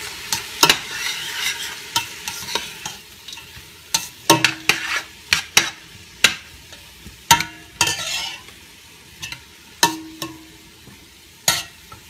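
Garlic and chopped vegetables for a seafood gumbo cook in a pot, stirred with repeated sharp scrapes and knocks of a spoon over a soft sizzle, close and loud, no talking.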